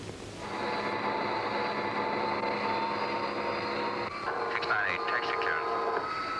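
An Avro Vulcan jet bomber's engines roar steadily up close as it taxis, a loud sustained whine with a brief rising pitch shift toward the end.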